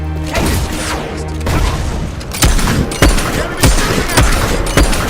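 Battle din in the video game Fable III: a loud, dense barrage of gunfire with repeated heavy mortar booms landing every second or so, continuous and close with no voices.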